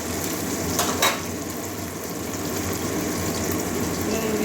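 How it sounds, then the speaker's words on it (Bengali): Chopped onion frying in a pan for a potato and water spinach dish gives a steady, close sizzle with a couple of brief stirring scrapes, and nobody talks. "পেঁয়াজটা একটু ভাজা ভাজা হতে দেবো"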